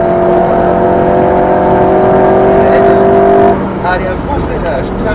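An Alpine A110 S held at light throttle on the Grand Sambuc circuit, a loud steady engine drone with a level tone that drops away, then a softer engine note with someone talking over it.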